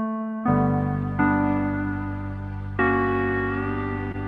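Electronic keyboard notes played with a harmony feature that stacks chords under one finger, three sustained tones each entering with a fresh attack and ringing on, loud and close.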